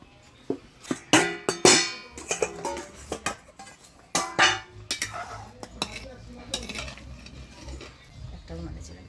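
A pot of boiled potatoes checked and lifted off a village stove, with scattered metallic clanks and scrapes of pot and utensils while people talk.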